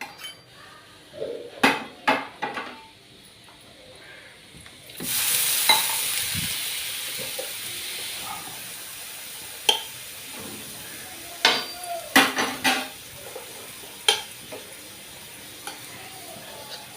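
Urad dal dosa batter fries in oil on a hot pan, a steady close sizzle rising partway through while metal spatula scrapes and clanks against the pan and dishes sound in sharp separate knocks.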